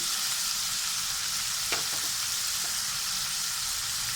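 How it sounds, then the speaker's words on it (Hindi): Chopped onion frying with chicken in a pan gives a steady, close sizzle throughout, with a couple of faint stirring knocks partway through. "अब हम इसमें चॉप किया हुआ प्याज डालेंगे।"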